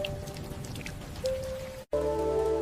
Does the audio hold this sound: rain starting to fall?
yes